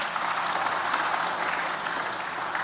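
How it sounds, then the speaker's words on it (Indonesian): A church congregation claps together in sustained, dense applause, many hands at once filling the room evenly from start to finish, with no voices rising above it. "Saudara tepuk tangan dulu, tolong tepuk tangan dulu"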